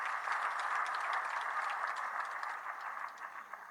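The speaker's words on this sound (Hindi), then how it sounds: "जोरदार ताली इनके लिए भी" Audience at an indoor BJP celebration event in Panchkula clapping steadily for a newly elected mayor, a fairly quiet, continuous patter of many hands heard from a distance.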